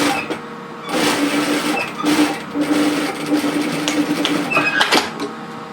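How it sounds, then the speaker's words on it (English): A sewing machine runs steadily, hemming a knit cardigan and back-tacking on the underarm seam, with a continuous close whir that rises and dips in short surges throughout. "I'm starting and finishing with a back tack on the underarm seam."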